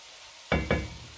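Onions and brown sugar cooking down in a pan give two quick stirring scrapes with a sizzle, then a soft simmer in a quiet kitchen with no talking.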